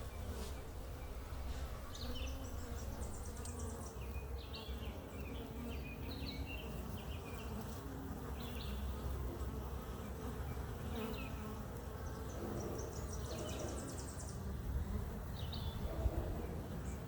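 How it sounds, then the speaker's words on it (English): Honeybee swarm buzzing steadily around a swarm trap at a house, a dense continuous drone of many bees close by, with no talk over it. "Looks like we caught us a couple swarms"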